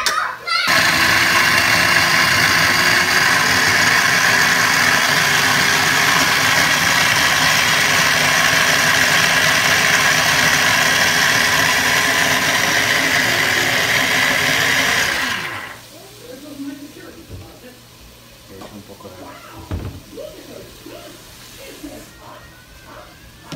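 A blender grinds shrimp broth ingredients with a loud, steady whirring roar for about fifteen seconds, then cuts off abruptly and leaves quieter kitchen clatter and faint movement.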